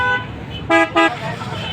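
Two short electronic censor beeps cut over a spoken price at a calf market in Hyderabad, each a loud, pure tone in quick succession, set against a busy outdoor background.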